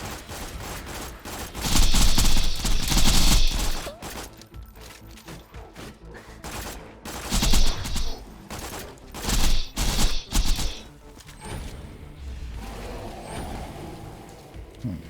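A legendary Vladof gun fires in a Borderlands-style shooter on the Digistruct Peak map, with loud rapid bursts of automatic gunfire separated by short pauses and game effects in between, and no speech.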